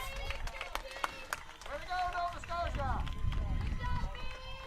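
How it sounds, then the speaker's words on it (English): A supportive Nova Scotia crowd at a rugby match cheers and claps in a lively, shifting swell, with a commentator talking over it. "And you can hear a supportive Nova Scotia crowd here."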